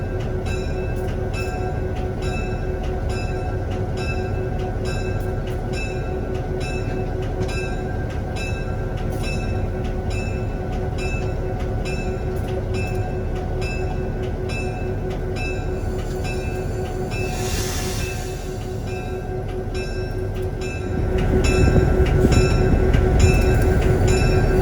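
A Belton, Grandview and Kansas City Railroad train rolls along heard from the locomotive cab, with a steady engine drone and rhythmic wheel clicks over rail joints, growing louder and rougher near the end.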